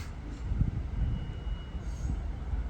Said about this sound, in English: That train looks like it's moving. In fact it is.